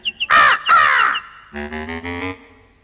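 Crow cawing in a children's cartoon, two quick short calls followed by two long harsh caws, then a lower drawn-out croaking call, loud and close.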